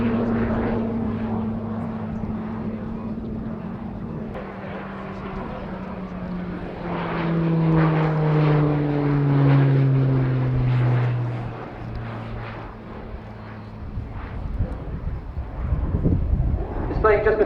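Shorts Tucano turboprop trainer of the RAF flying a display at RIAT 2019, a steady propeller drone with a sliding pitch as it passes, loud and continuous with wind buffeting and crowd noise beneath.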